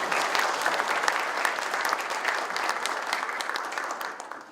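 Audience at a company anniversary ceremony giving a big round of applause, a dense, continuous burst of clapping heard alone that fades slightly at the end.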